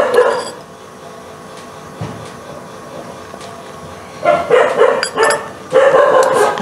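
A dog barks in bursts, a few sharp barks at the start, then a louder cluster of barks and yips near the end, fairly close, over a quiet background with no talking.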